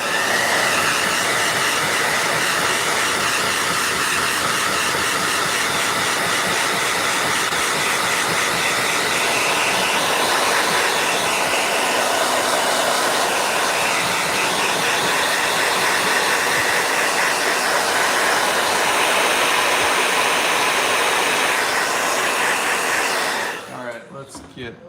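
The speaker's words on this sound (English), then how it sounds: "Blow dryer." A blow dryer runs loud and close with a steady, unbroken whooshing roar for nearly the whole stretch, then cuts off abruptly at the end.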